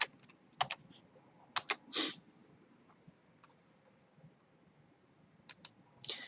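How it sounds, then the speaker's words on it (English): Close typing on a computer keyboard: a few sparse clusters of sharp key clicks and one louder tap, separated by near silence. "We'll type in Emby."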